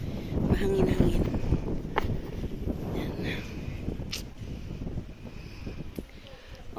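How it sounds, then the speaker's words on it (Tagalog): Strong wind buffets the microphone at an outdoor Christmas market in Bremen, Germany, a loud rumbling gusty roar that eases slightly toward the end, with people talking nearby. "Mahangin."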